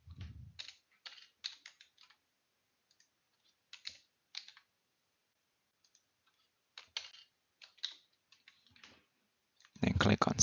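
Computer keys click in short bursts of typing with pauses between them, close and crisp, with a low voice briefly at the start and end.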